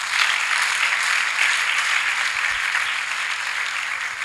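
An audience applauds a helper at a gathering, dense continuous clapping at a steady level for several seconds, gradually easing slightly toward the end.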